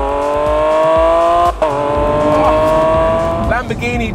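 Naturally aspirated V12 of a Lamborghini Aventador SVJ screaming at high revs, loud and close with steady rising harmonics, a brief dip near the middle as it shifts, then climbing again; tire noise may sit underneath.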